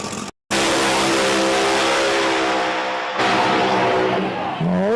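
Drag cars launch side by side down the strip at an outlaw drag racing event at Virginia Motorsports Park, a brief cut then loud sustained engine roar with rising harmonics, a second surge joining near the end.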